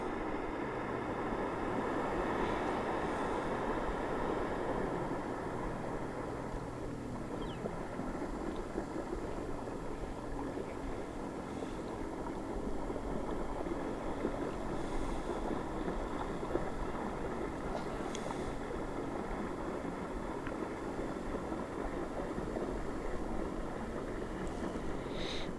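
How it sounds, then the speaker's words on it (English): An old, basic motorboat engine drones loudly and steadily throughout while the boat runs on open water, with wind buffeting the microphone and no voices. "It's like just a basic old motorboat."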